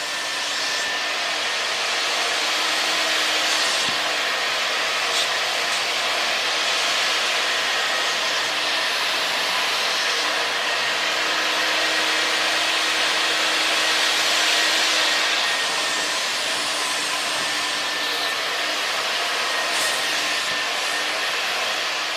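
A carpet extractor in use during mold cleanup of a Honda S2000 interior gives a loud, steady motor whine with broadband airflow hiss, running continuously close by without pause and with no voices.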